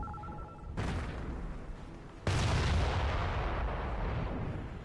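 A German 88 gun in Company of Heroes fires two heavy booming shots, the second louder, each followed by a long rumbling decay, with no talk over them.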